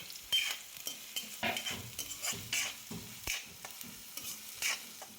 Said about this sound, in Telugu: పచ్చిమిర్చి అండ్ ఆనియన్స్ కూడా వేసుకొని గోల్డెన్ బ్రౌన్ కలర్ వచ్చేంత వరకు ఫ్రై చేసుకోవాలి